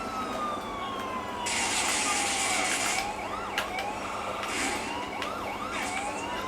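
A police car siren wails steadily in the video game GTA 4, rising and falling in pitch and loud throughout a car chase, over constant engine and traffic noise.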